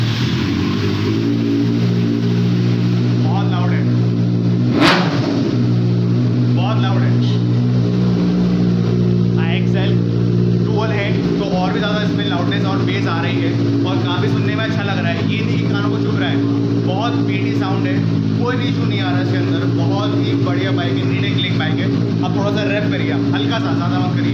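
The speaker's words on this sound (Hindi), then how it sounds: "चलिए इनको एग्जॉस्ट भी सुना देते हैं। IXL ओरिजिनल है, तो चलिए स्टार्ट करिए।" A Benelli 600i motorcycle fitted with an original IXL exhaust runs continuously and close by, a loud steady engine drone with a sharp blip near the start, while someone talks over it throughout.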